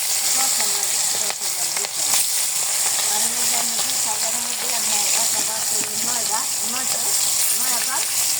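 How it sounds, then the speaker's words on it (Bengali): Marinated meat fries for biryani in a pan, giving a continuous loud sizzle with crackling that holds steady throughout, while a voice talks intermittently over it. "দেখেন এই যে মাংসটা আমি কিন্তু ভেজে নিচ্ছি"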